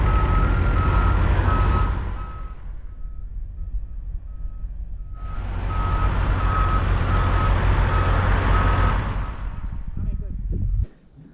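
A truck backing up in Calgary, its reversing alarm beeping in a steady pulsing rhythm over a loud diesel rumble, pausing briefly midway and then resuming before the engine cuts off.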